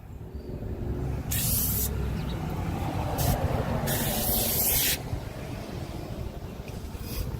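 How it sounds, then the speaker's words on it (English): Foaming glass cleaner sprayed onto the chrome of a 2004 Harley-Davidson Sportster XL1200C, two or three sharp hissing trigger bursts close to the nozzle over a steady low background rumble. "just got some simple spray away foaming glass cleaner"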